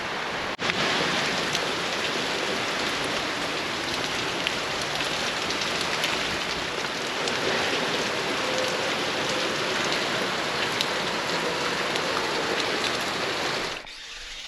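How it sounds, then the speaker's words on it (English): A heavy rain squall pours down outdoors over a steel boat build site. It makes a dense, even roar of rain drumming on surfaces that holds steady for about thirteen seconds and then cuts off abruptly, with no voices. "I'm going to patiently wait for a moment until this rain squall buggers off"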